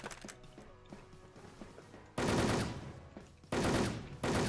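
Video game gunfire: light rapid shots at first, then three loud sustained bursts of automatic fire, close and dominant.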